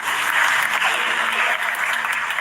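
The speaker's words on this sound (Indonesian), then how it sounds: "tepuk tangan." Audience applause at a youth political talk in Indonesia, a dense steady wash of clapping filling the whole stretch, loud and continuous with some voices mixed in.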